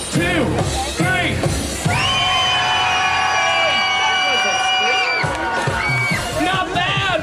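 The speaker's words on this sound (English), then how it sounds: "I want this side of the street to scream as loud as you can." At Disney's California Adventure in the old Sunshine Plaza, a large street crowd screams and cheers on cue, a loud sustained roar of whoops and yells lasting several seconds, with a performer's voice calling out before and after.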